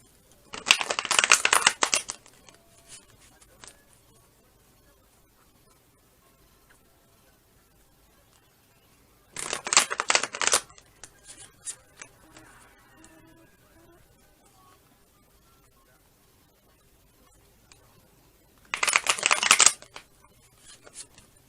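Playing cards riffle-shuffled by hand in three loud, crisp bursts spaced several seconds apart, with near-silence between them.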